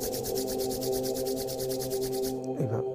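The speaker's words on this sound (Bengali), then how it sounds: "আস্তে উঠিয়ে এইভাবে ঘর্ষণ করে, হাত দুটোকে ঘর্ষণ করে যখন গরম হয়ে যাবে" Both palms rubbed briskly together to warm them, a steady dry swishing friction in fast regular strokes, close and continuous, ending with a brief low hum.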